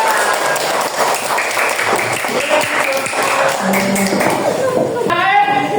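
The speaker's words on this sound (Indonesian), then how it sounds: "Beri tepuk tangan buat kalian." Children in a classroom clap for one another at a teacher's prompt, a busy mix of hand claps and taps with a faint chiming tone near the end, sounding close and lively, with voices mixed in throughout.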